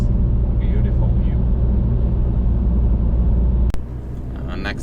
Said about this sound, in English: we're driving in the car, and now we're recording the sound on the internal microphone on HERO9 Black